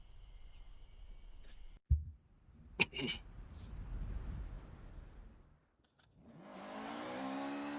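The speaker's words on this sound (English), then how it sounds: "I'm driving around in the Acura" An Acura car driven in a video game: a faint engine hum with a couple of sharp knocks, then a rising rev that swells and holds near the end.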